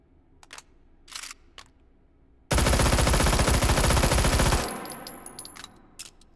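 A Vityaz submachine gun in Hot Dogs, Horseshoes & Hand Grenades fires a sustained full-auto burst of about two seconds of rapid, loud, close shots. Scattered mechanical clicks and handling noises come before and after it, with no talking.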